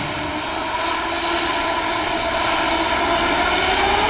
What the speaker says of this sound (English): another beautiful heavy 350-900. It's the Cathay Pacific aircraft heading to Hong Kong.